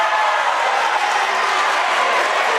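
Pacers basketball crowd at a women's college game cheering and applauding in the fourth quarter, a loud, steady roar of many voices and clapping filling the gym throughout.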